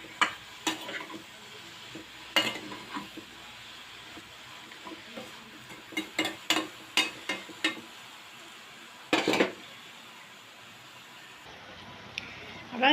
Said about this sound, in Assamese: নিমখখিনি দি মই ভালদৰে ইয়াক লৰাই দিছোঁ